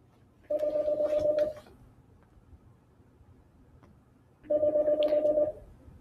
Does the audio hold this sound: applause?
no